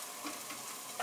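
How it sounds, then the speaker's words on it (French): Onions fry over very high heat in a pan, a steady close sizzle with shaken stirring bursts throughout and a louder spit at the end. "disperse mes oignons dans la poêle et je les... Voilà. Je les secoue tout le temps."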